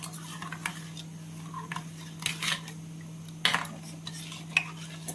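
A spoon stirs sugar into a sabudana vada mixture, giving light scraping and clinking taps against the bowl in an uneven rhythm, close and fairly quiet over a faint steady hum.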